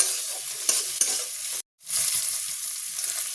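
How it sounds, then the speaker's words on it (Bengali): Prawns frying with onion, green chilli and garlic in a pan, a steady close sizzle with a couple of sharp stirring scrapes and a brief gap of silence midway. "চিংড়ি মাছটাকে ভালো করে ভেজে নেবো পেঁয়াজ আর তোমার কাঁচা লঙ্কা রসুনের সাথে"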